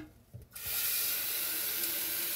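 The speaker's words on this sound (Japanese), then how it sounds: "多分洗ってこの中に一回水溜めて" Tap water running steadily into a container, starting abruptly after a brief quiet moment and continuing as a loud, even hiss close by with no talking.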